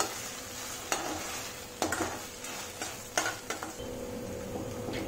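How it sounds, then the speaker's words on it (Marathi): Pepper powder, mixed herbs and chili flakes stirred into vegetables in a pan for macaroni pasta, a soft sizzle under several sharp spoon knocks and scrapes against the metal, close and clear. "पाव चमचा मिरी पावडर, अर्धा चमचा मिक्स हर्ब्स, थोडेसे चिली फ्लेक्स मिक्स करून घेऊ"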